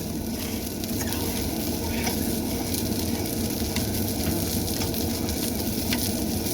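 Steady loud sizzling of vegetables frying in a hot pan, continuous and close, with faint stirring and no voices.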